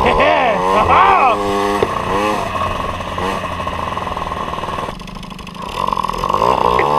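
An MBK 51 Magnum moped fitted with a new airbox revs up and down close by, its engine note rising and falling continuously throughout; speech also appears to be present over it.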